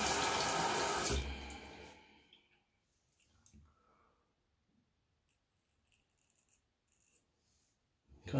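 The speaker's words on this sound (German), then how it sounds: "Zwischendurch mal abspülen, den Schaum vom Messer." Tap water runs loudly for about a second to rinse shaving foam off a straight razor during a wet shave, then stops, leaving faint clicks and small handling noises.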